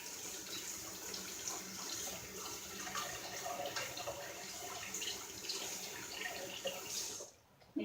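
Running water from a kitchen tap pours steadily over a container being rinsed, a continuous close hiss that cuts off just before the end.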